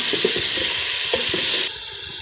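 Fava beans with onions and green chillies sizzle steadily in a pan while a spoon stirs them in several soft scraping pushes, close and alone until the frying noise drops abruptly near the end.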